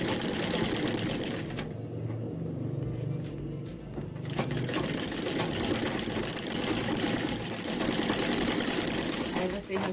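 A home sewing machine stitches strips of plastic bag with a steady, fast mechanical whir that runs almost without a break. Someone speaks over it throughout.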